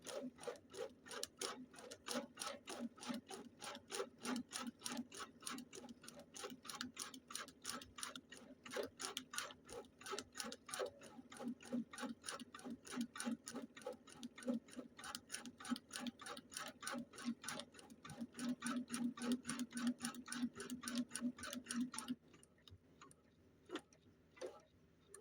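A Janome Memory Craft 300e embroidery machine stitches in a fast, even ticking rhythm, quiet and steady, before the stitching stops near the end and leaves a faint hum.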